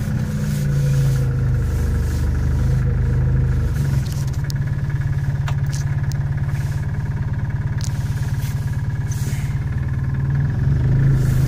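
A car's engine runs steadily as it makes a short, slow loop around a parking lot, a constant mid-level hum with low rumble and no voices.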